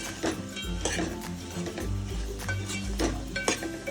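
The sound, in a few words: millet flatbread pieces stirred into sizzling tempering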